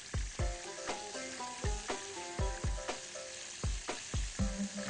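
Prawns frying in a pan, a steady sizzle broken by repeated sharp clinks and scrapes of a utensil against the pan, close and alone with no talking.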